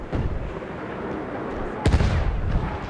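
A frag grenade goes off in a video game, one sharp loud burst cutting through a low rumbling battle ambience before the noise settles back to a steady din.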